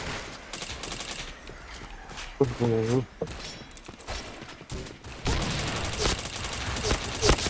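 Rapid gunfire from a shooter video game, several bursts and shots mixed with footsteps, while a voice talks over the action and a game announcer calls out kills.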